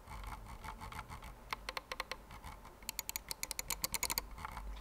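A Logitech G PRO Wireless gaming mouse clicks and scrolls close up. Sharp, quiet clicks come in irregular bursts with fast runs of scroll-wheel ticks. No one talks.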